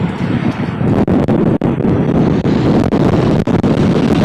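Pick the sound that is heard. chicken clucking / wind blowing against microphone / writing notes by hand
wind blowing against microphone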